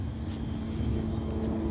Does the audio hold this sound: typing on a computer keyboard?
no